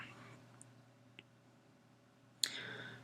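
A computer mouse clicking on a search result: a few faint, sharp ticks spread over a quiet room hum, with one louder, crisper click near the end.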